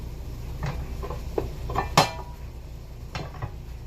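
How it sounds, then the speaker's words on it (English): A metal pan holding lean ground beef is shifted across a home stovetop, giving a few light scrapes and clanks with one sharper knock midway, faint over a quiet background. "Remember, we move our pan."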